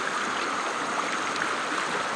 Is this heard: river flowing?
yes